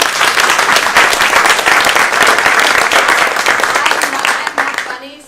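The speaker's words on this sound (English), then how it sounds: "I really appreciate your applause" A lecture audience breaks into loud, sustained applause that fills the room steadily, then thins and trails off near the end.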